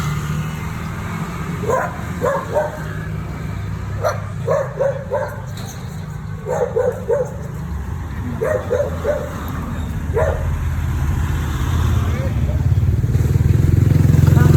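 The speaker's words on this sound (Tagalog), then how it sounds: "Mangangagat pa yung aso" Repeated dog barks in short bursts through the first ten seconds, over a steady engine-like rumble and traffic noise outdoors.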